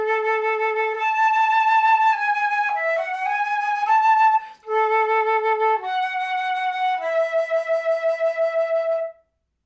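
A simple melody is played on a solo bowed instrument with consistent fast vibrato, sustained notes pulsing evenly in a close, steady, continuous line with one brief pause midway.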